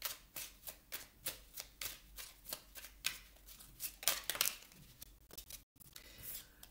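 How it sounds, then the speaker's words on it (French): Tarot cards are shuffled and drawn by hand, giving a quick run of crisp, papery riffles and flicks in a steady rhythm, close and fairly quiet, with no voices. "Je vais vous tirer une autre carte, les amis vierges."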